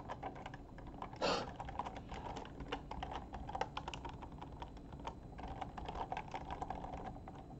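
Keystrokes on a computer keyboard while typing code for a small Pygame game, an irregular run of close, soft clicks and taps lasting several seconds, with no speech.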